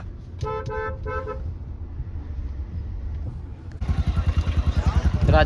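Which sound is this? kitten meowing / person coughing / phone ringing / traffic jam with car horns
traffic jam with car horns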